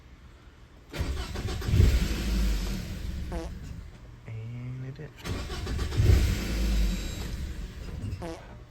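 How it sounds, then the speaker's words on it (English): A 2006 Scion tC engine cranks and starts after a starter replacement, settles into a steady idle, then is started again, with brief speech in between. "We'll turn on the car and see if it runs."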